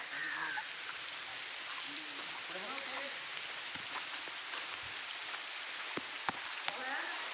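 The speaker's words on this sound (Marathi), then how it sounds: "खूप पाऊस पडतोय" Steady heavy monsoon rain hissing on surfaces beside a field, a continuous broadband wash with occasional sharper drops and faint voices in the background.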